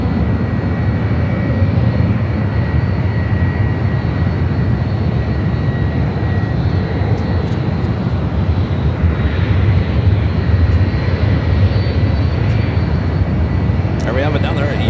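A United Boeing 757-300 jet airliner at San Francisco airport, its steady engine roar loud and continuous throughout, with a voice talking over it.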